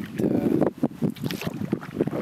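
Canoe paddling on Sandpit Lake in the autumn Boundary Waters, with a light north wind: continuous low rushing water and wind noise with soft rhythmic paddle strokes and splashes, fairly close and steady.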